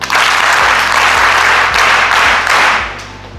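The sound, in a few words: students clapping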